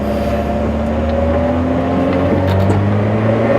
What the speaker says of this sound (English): Nah, my exhaust ain't that loud.